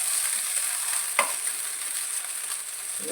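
Butter sizzling in a hot pan while butter rice and butterfly prawns are cooked: a steady, close hiss of frying fat with a brief stir clink partway through.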